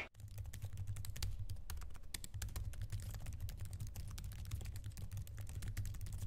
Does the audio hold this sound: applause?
no